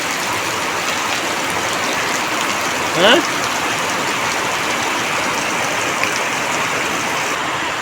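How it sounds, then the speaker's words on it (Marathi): Monsoon rain falls steadily in front of a village house, a dense even hiss lasting throughout, with a brief louder disturbance near the middle. "हा घराच्या पुढच्या दरवाज्यात पाऊस बघा"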